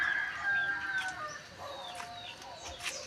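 Chickens cluck and a rooster crows in the background outdoors, moderately faint, with overlapping calls throughout and no speech.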